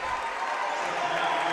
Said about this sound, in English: Gets a big hand from the crowd.